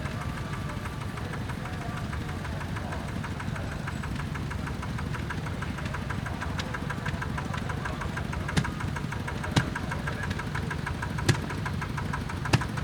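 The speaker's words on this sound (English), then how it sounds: "Number 43, this is a Nuffield 465 diesel tractor, manufactured in 1968." A 1968 Nuffield 465 diesel tractor chugs along in a vintage tractor parade at the Great Dorset Steam Fair, a steady, knocking engine rhythm held at an even level, with a few sharp clicks toward the end.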